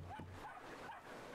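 A cocker spaniel in the video game Brothers: A Tale of Two Sons gives a few short, faint yips and barks, spaced apart against a soft, steady background.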